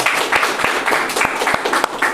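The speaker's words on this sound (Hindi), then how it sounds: "क्यों ना हम वर्शिप टीम के लिए जोरदार ताली बजा सकते हैं" A church service crowd applauds the worship team steadily, a dense patter of many hands clapping with a few sharper claps standing out, fairly loud and close.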